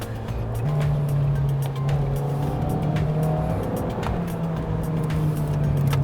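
A car fitted with Continental UC7 tires corners on a wet mountain road up Genting Highlands, giving a steady, close engine drone with a constant hum and faint road hiss throughout.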